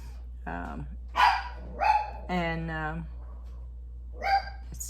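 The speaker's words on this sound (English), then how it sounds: "That's her little dog, Tweedles." A small dog barks and yips several times in short separate bursts, fairly close, with a person talking between and around the barks.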